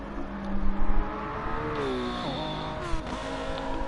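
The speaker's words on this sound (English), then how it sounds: "Masma now overtaking his teammates in the Lamborghini" A Lamborghini race car in a sim racing video game during an endurance race at Lago Maggiore, engine droning steadily with rising and falling pitch through gear changes, other cars audible nearby.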